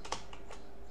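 Computer keyboard typing while entering text in Microsoft Word: a brief run of a few soft, close key clicks, one slightly sharper press near the start, over a quiet steady room hiss, with no talking.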